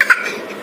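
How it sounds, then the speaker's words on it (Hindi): A baby gives a brief, raspy little cough, short and close, with a breathy tail. "मेरे बच्चा को खांसी हो गया"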